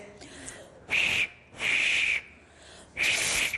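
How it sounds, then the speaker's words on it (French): A person whistles three long, steady high notes, close up, with short breathy pauses between them. "essayer de siffler"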